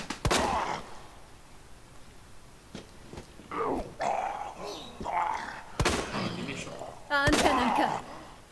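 Several sharp gunshot cracks in the video game Resident Evil 2 ring out at irregular intervals, mixed with brief vocal noises and a high whistling burst near the end.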